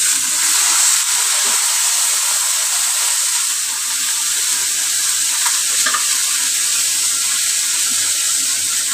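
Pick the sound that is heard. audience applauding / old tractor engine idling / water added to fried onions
water added to fried onions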